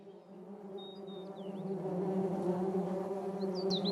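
Steady, low droning buzz from a hornets' nest, close and gradually swelling, with faint bird chirps above it.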